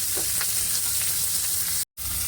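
Chopped onion hits hot oil in a curry pan with a loud, dense, continuous sizzle close up, broken by a brief cut of silence near the end.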